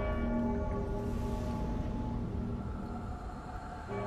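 A bell rings in Dark Souls 3, holding a loud, sustained metallic tone with steady ringing overtones that linger unbroken through the whole stretch without any speech.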